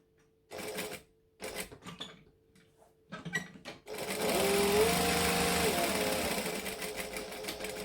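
A sewing machine back-stitches on an airliner-style boom box cabin bag: short stop-start bursts of whirring stitching, then a long steady close run of the motor.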